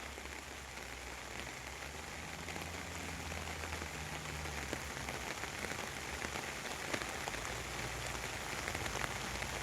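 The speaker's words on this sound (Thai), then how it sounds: "ฝนตกมากด้วยนะในจังหวัดชุมพรนะครับ" Steady heavy rain pours over a durian orchard in Chumphor province, Thailand, a dense even hiss of drops on leaves and ground with no pauses, no voices heard.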